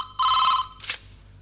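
A telephone rings in a Tamil family serial scene, one sharp electronic ring burst, followed by a brief softer chirp, then quiet.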